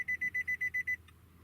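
A car sounds a rapid series of eight short, even electronic beeps during remote key registration, followed by a couple of fainter chirps, all clear and close in a quiet space.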